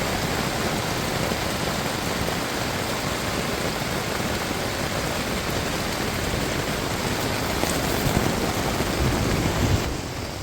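Steady, dense rain hisses evenly throughout on the Appalachian Trail in Pennsylvania, a loud broadband wash of drops with no voices.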